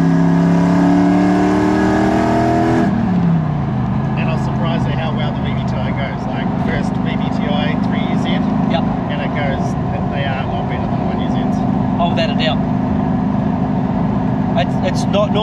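Loud 3UZ V8 engine in a Hilux Surf body on a 2WD Hilux chassis, set up loud for track days, rumbling and revving with a steady, throaty roar that drops in pitch early on and then holds.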